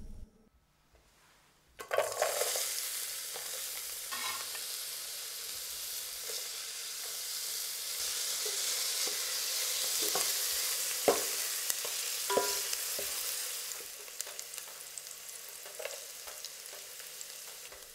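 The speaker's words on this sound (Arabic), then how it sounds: "بنضيف الزيت وبنقلي البصل." Onion hits hot oil after a short quiet spell and then sizzles loudly and steadily, close by, with a few scattered stirring clicks over the hiss.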